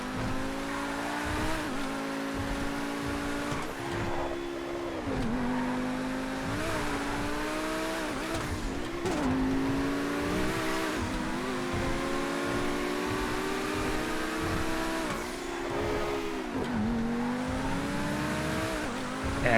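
A Pegassi Tempesta sports car in the GTA FiveM video game revs repeatedly, its engine climbing and dropping through gears in a steady, loud, close drone with no talk over it.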